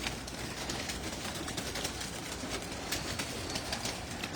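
In a dim rooftop pigeon loft, hens murmur in a low, continuous coo, moderately close, against a steady wash of broadband noise with a few faint ticks and scrapes.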